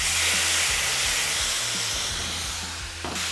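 Shrimp sear on an oiled Traeger Flatrock griddle, a loud, continuous close sizzle and hiss that fades slightly toward the end.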